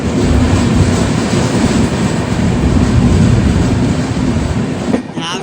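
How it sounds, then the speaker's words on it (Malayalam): An airplane flying low on approach to Goa airport, heard from a train as a loud steady roar blended with rail rumble, easing slightly at the end. "ഗോവ എയർപോർട്ടിലേക്ക് ലാൻഡ് ചെയ്യുന്ന ഏതോ ഒരു വിമാനം കേട്ടോ"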